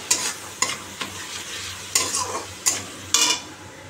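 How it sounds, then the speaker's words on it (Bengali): Fish frying in hot oil while it is stirred, giving a steady sizzle broken by about six sharp spitting bursts of splattering oil, close and fairly loud, with no talking. "মাছটা অতিরিক্ত মানে তেল ছিটকায় চারিদিকে"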